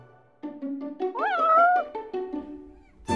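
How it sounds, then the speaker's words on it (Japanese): A cat meows in the video game Assault Lily Last Bullet, a single drawn-out, rising and falling meow that is clear and close, followed by a brief noisy burst. "この子は何？ 猫だよ。"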